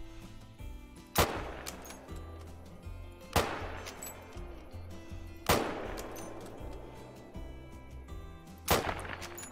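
Four loud, evenly spaced gunshots ring out in the Call of the Wild hunting game, each a sharp crack with a rolling tail, over a low steady game ambience with no talking.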